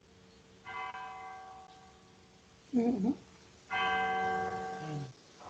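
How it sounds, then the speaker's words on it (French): Church bells ring in two sustained, resonant strokes separated by a pause, fairly faint, with a short murmured voice between them. "il y a des jolies cloches"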